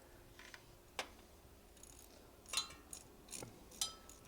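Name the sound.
socket wrench loosening bolts on 1943 Willys jeep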